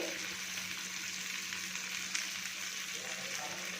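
Sweet corn, finely chopped carrot and capsicum sautéing in butter in a pan, a steady soft sizzle with faint occasional stirring clicks, quiet and continuous.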